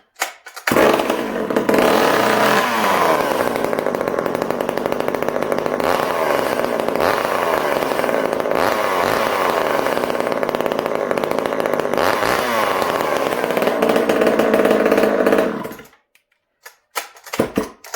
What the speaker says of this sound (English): But first, let's start this saw. I want you guys to see. This is a cold start.